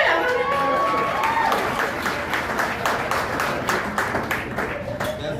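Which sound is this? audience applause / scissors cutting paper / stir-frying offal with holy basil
audience applause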